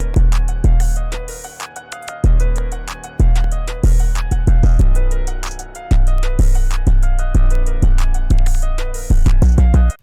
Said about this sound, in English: And then I put in the first of 2 808 patterns.